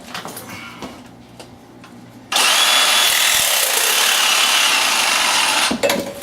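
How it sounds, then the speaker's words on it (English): A reciprocating saw bites into thin plastic tubular sink drain pipe, starting abruptly after a quiet stretch of handling and buzzing loudly and steadily for about three and a half seconds before cutting off. "I'll go straight to the sawzall"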